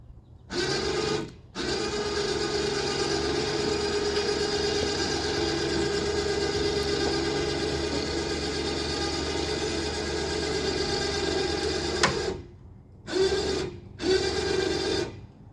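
An electric winch pulls a skiff up onto the roof of a bus with a steady, continuous mechanical whine and drone that runs nearly unbroken, then stops and restarts in short bursts near the end.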